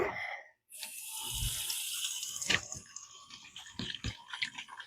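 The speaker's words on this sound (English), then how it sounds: "Wash my hands again." Water runs steadily from a tap with splashing and a few sharper knocks as hands move under the stream, fairly close.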